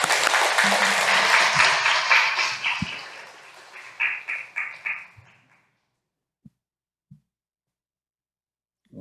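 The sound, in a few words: audience applause welcoming a church lecturer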